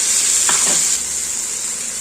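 Onion and capsicum sizzle and fry in a pan as spices are added and stirred, for masala chilli paneer; a steady close sizzle with a brief scraping stir, no voices.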